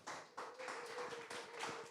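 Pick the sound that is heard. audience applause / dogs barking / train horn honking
audience applause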